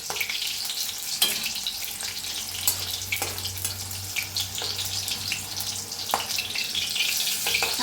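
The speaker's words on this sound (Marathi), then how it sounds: "आता मिरच्या भाजल्या का काढून घेऊया" Green chillies frying in hot oil in a pan, a steady soft sizzle and crackle throughout with occasional sharper pops, close and moderately quiet, no voices.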